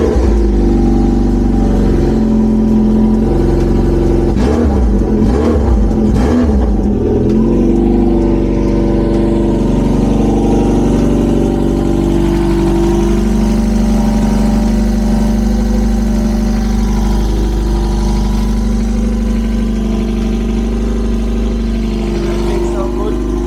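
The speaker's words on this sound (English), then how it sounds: "we'll do a quick test start and check the truck" A Subaru engine with bent valves cranks and starts after repair, then settles into a steady, loud idle running without stopping, with voices talking over it.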